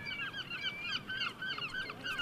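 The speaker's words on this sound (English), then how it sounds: "Seagulls are around." Seagulls call repeatedly around a cricket ground during a Somerset vs Durham match, a cluster of harsh, overlapping cries at moderate distance above a quiet outdoor background.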